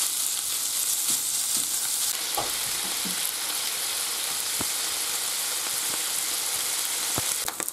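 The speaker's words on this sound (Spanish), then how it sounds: "Con el mismo aceite se echa la panceta. Y a remover. Y que se fría bien." Bacon frying in oil for Valencian baked rice, a dense continuous sizzle and crackle with occasional stirring clicks, close and steady throughout.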